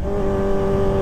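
A loud, even engine hum comes from a Kawasaki ZX-25R with a Proliner TR2 full-system exhaust, steady at a constant pace, with no speech.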